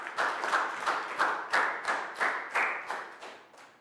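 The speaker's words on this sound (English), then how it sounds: "Big round of applause." A class of young schoolchildren claps together in a rhythmic, steady pattern of roughly a dozen evenly spaced beats, moderately loud and close, with no talking over it.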